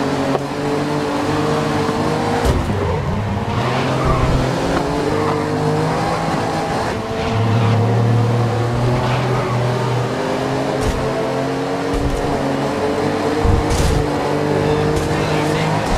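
Race cars in Grid 2019 roar steadily at close range, engines revving and shifting with rising and falling tones, with occasional sharp transient clicks and bumps over the continuous drone.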